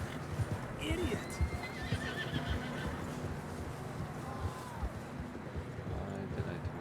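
Horses whinny and neigh repeatedly over steady clip-clop of hooves in the Red Dead Redemption video game, with the game's music and effects around them and low voices talking at times.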